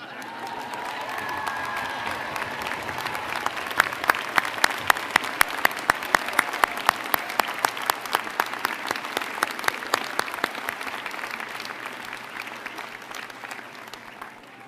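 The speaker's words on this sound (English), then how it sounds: "let's all rise and applaud each other" A large commencement crowd at a college graduation ceremony rises and applauds, the clapping swelling into loud, distinct near claps mid-way with some cheering, then gradually thinning and fading out.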